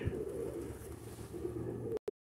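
Pigeon cooing from a rooftop flock at a rural Polish homestead, low soft coos over a steady hum of background noise, then a brief cutoff near the end.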